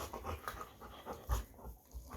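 A dog pants quickly and breathily during rough-and-tumble physical play, with soft snuffles and a few thumps, heard close and fairly quiet.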